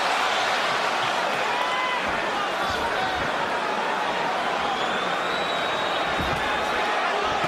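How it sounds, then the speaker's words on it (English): An arena crowd at the Miguel Cotto versus Shane Mosley boxing match, a broad, continuous roar that swells in spots, heard under close commentary. "Crowd reacting to anything Cotto puts forth."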